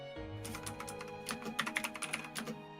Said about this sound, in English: Just listening to your typing ASMR.